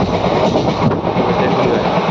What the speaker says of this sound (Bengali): ট্রেনটাও জোরে চলতেছে